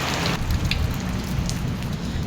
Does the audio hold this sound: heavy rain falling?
yes